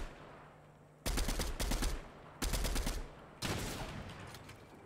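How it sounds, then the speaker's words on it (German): Bursts of rapid automatic gunfire hit the player in a competitive online shooter match, three loud clustered volleys with short gaps, the last fading out. "Ich werde angeschossen."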